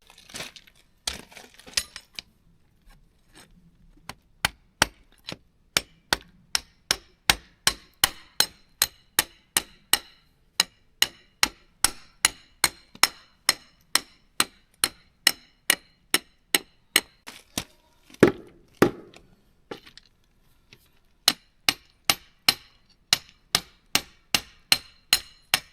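Rebar being hammered down into reclaimed gabion stair blocks, a long run of evenly spaced, sharp metallic strikes, loud and close, with a brief pause near the end before the blows resume.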